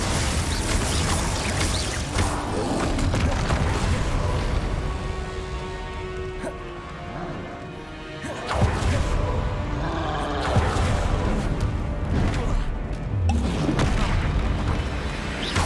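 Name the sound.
spell-casting blasts in the video game Hogwarts Legacy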